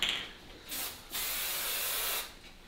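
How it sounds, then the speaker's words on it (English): Hairspray is misted onto styled hair in two hissing bursts, a short one and then a longer steady one, close and fairly soft. "I just use some hairspray."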